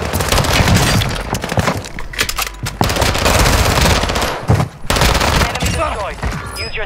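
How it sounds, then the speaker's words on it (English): Rapid automatic gunfire from the Warzone 2 video game, dense bursts of shots with cracking impacts filling the whole stretch, loud and close. "they were shooting at somebody else"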